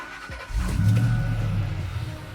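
Black 2002 Ford Lightning pickup with a supercharged 5.4 liter V8 starting and revving, a deep rumble swelling up and holding strong close by for a couple of seconds.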